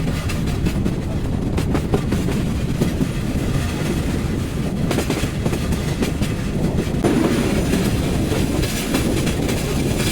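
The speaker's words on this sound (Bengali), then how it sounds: "পাহাড়ের মাঝ দিয়ে আমাদের ট্রেন ছুটে চলে যাচ্ছে শ্রীমঙ্গলের উদ্দেশ্যে" The Parabat Express rolls along the rails between hills toward Sreemangal, with a steady loud rumble and rhythmic clickety-clack heard from inside the carriage, continuous throughout.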